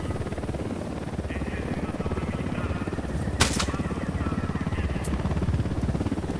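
Helicopter in the Ghost Recon Wildlands video game, its steady rotor chop pulsing rapidly and growing slightly louder, with a sharp crack of gunfire partway through.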